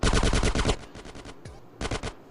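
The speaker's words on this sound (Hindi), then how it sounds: "ओह, बैक साइड से गोलियां चली हैं।" Video game gunfire in GTA San Andreas: a rapid automatic burst of loud shots, followed by a few spaced shots and a short second burst, with no voices.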